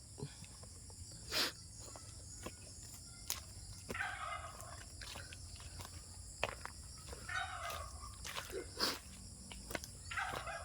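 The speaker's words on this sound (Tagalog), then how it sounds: "Maingay ang kanyang mga alaga nga pabo." Pet turkeys gobble in several bursts, moderately near, over a steady chorus of insects in a rural Philippine farmyard, with occasional shuffling footsteps.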